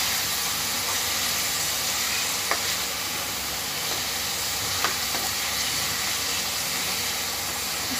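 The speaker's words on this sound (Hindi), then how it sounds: "अच्छी तरह भूनिए," Spinach and masoor dal sautéing in a pan give off a steady, continuous sizzle and frying hiss, close and even throughout, with a couple of faint clicks of stirring and no talking.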